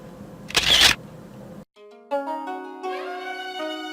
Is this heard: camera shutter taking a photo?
yes